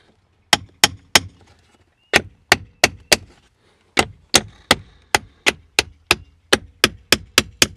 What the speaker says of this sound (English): I'm putting them in with a little bit of a hammer, just a lot easier.